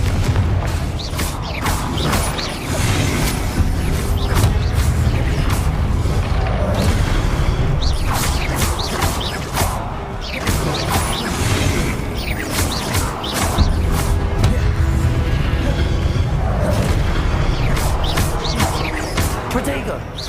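Confringo explosive spells blasting in Hogwarts Legacy, with repeated booms, crashes and whooshing impacts in a loud, busy stream of combat effects mixed with voices.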